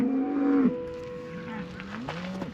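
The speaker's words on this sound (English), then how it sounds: "we passed a curious herd of cows who chased us along their fence line" Herd of cows mooing along a pasture fence in eastern Washington, a couple of low, drawn-out moos close by, one long call followed by a shorter rising one.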